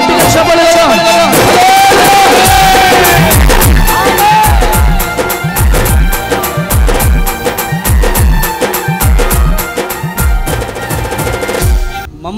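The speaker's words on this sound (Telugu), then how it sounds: "గట్టిగా చప్పట్లు కొడదాం" A congregation at a Christian worship gathering claps loudly together, a dense, continuous patter of many hands filling the space, with a voice speaking over it.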